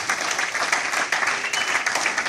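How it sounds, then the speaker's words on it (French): A youth conference audience in a hotel clapping to acclaim the Lord, a brisk, fairly loud burst of many hands applauding in an unbroken patter. "Acclamons un peu le Seigneur."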